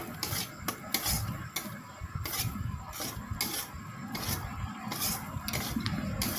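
A spoon stirs yogurt through katla fish curry in a pan, giving steady close rubbing and scraping strokes with soft wet squelches and a faint sizzle underneath, with no talking.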